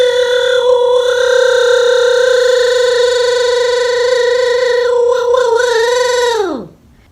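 A sustained, buzzing vocal tone produced at the back of the throat, rich and gritty, held steadily for several seconds before sliding sharply downward and cutting off.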